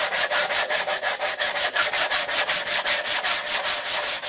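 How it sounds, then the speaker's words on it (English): Rough wood on top of a small DIY piece is hand-sanded in quick, even back-and-forth strokes, a close, steady rasping rhythm with no talking. "So I'm going to try to sand the top down on this one."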